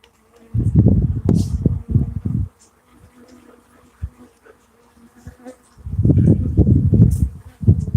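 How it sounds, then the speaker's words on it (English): Guard bees buzz in two loud, dense bursts close to the microphone, one near the start and one near the end, with a quieter stretch of faint droning and small clicks between them. "I've got a few more buzzing me, so I'm backing off."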